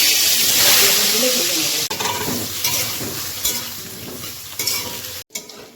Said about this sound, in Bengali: কড়াইটা গরম হয়ে গেছে এবার এর মধ্যে দিয়ে দেবো সর্ষের তেল